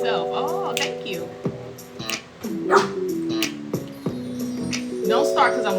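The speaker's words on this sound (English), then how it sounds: "Don't start barking by yourself." A dog barks and yips in short bursts, scattered through the clip under ongoing music and talk indoors.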